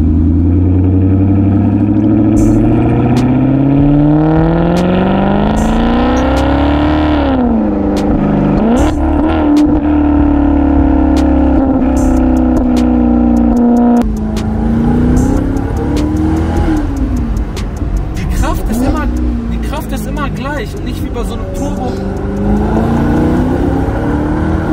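A Maserati GranCabrio MC with a large 4.7-litre V8 revs loud and close, its deep, throaty note climbing and dropping through several pulls, with brief sharper bursts and a sustained low rumble.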